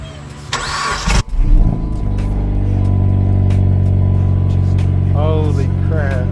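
A Dodge Caliber SRT-4 engine cranks briefly and catches, then settles into a steady, loud idle up close, with excited voices briefly over the running engine near the end.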